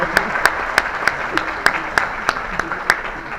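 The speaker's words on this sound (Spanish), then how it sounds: "les pido un aplauso para Leti por el gran esfuerzo" Audience at a surface, materials and vacuum science congress in Zacatecas applauding a colleague, heard as sparse, spaced claps about every third of a second over a steady murmur, moderately close.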